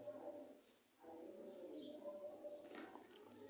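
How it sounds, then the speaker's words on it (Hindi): An Asian koel calling outdoors, faint and distant, with soft repeated notes over low background hum. "कोयल की आवाज़ भी सुन लें"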